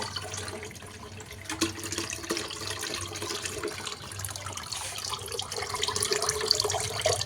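Liquid draining from homemade fertilizer made of fruit and vegetable peels such as pea pods and orange peel, heard as a steady close trickle and splash of falling water that grows slightly louder.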